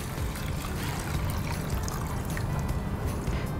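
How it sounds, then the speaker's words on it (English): Water pours steadily into a pot of rice, a close, continuous gurgling stream with a slight trickle, heard alone without talk. "All right, so add in the water."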